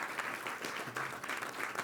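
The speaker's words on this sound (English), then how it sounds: "It's like mediocre applause." Modest applause from a tech challenge event audience, a thin, steady patter of clapping at moderate distance that never swells into a big ovation.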